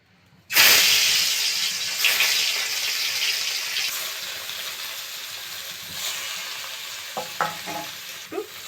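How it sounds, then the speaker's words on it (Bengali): Ingredients for a cabbage and egg dish drop into hot mustard oil with a sudden loud sizzle that settles into a steady hiss, with a few scraping stirs near the end. "এগুলোকে এবার তেলের মধ্যে ছেড়ে দেবো"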